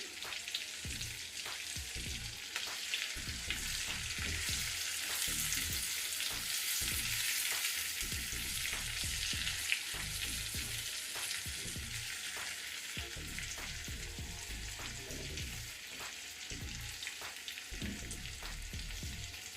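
Stuffed ridge gourd masala curry frying in oil fills the scene with a steady, dense sizzle and crackle, broken by occasional soft stirring or turning sounds, close and continuous with no talking.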